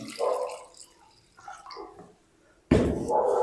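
Water poured onto mutton liver soaking in white vinegar, a sudden loud gush starting late and continuing steadily, preceded by quieter dripping and handling sounds, near and with no talk.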